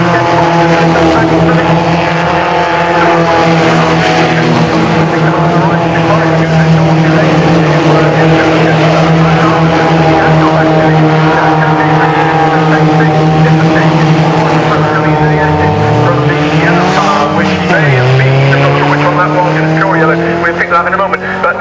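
F3 and GT race cars scream around Castle Combe circuit in a loud, sustained engine wail with pitch sweeps as they brake and accelerate through a corner, a commentator talking over the noise throughout.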